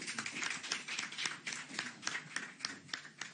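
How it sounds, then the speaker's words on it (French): An audience applauding the outgoing and incoming committees of AS VClub, a football club, at a handover ceremony, with moderate hand clapping in irregular bursts that carry on steadily and nearby with no speech. "nous pouvons applaudir le comité sortant et le comité entrant"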